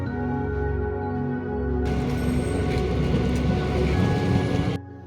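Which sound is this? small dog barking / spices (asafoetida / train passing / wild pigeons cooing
train passing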